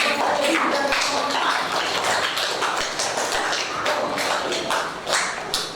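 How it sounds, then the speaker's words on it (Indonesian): Sustained audience applause in a classroom, steady dense clapping from many hands filling the whole stretch, close and fairly loud, with faint murmurs underneath. "Tepuk tangan lagi"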